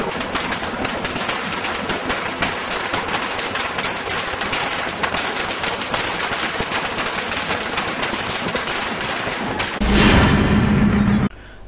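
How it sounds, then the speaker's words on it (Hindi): Fireworks set off at a street celebration in a city square, a dense continuous crackle of rapid pops and bangs, loud and close, with a heavier roaring burst near the end. "शक्करसाद चौक में आतिशबाजी कर जल्लोष भी किया गया था।"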